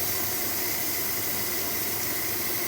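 Steam vents in a continuous loud hiss from a quick cooker (pressure cooker) cooking spaghetti, a broad, unbroken rush with no other sound.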